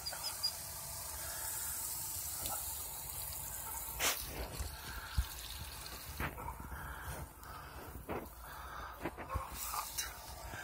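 Water from an off-grid propane camping shower runs and trickles steadily with scattered drips and splashes, a soft continuous wash of sound without speech.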